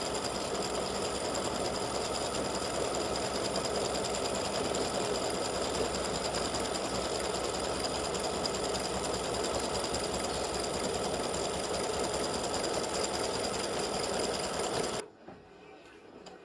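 An embroidery sewing machine runs continuously, satin stitching around the edge of a triangle clover earring, a steady dense whir with fast needle rhythm that holds for about fifteen seconds before cutting off abruptly.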